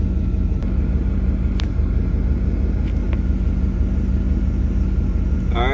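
Electric cooling fans run on a 1989 Camaro with a steady, broad whooshing rumble, close and constant, with a few faint clicks and no voices.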